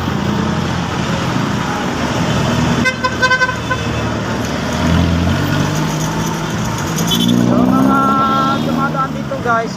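Road traffic of cars heading toward Antipolo from Marikina and Cubao on a calm afternoon, with steady engine rumble from passing vehicles, a horn toot near the middle and another vehicle horn or tone late, under brief background talk.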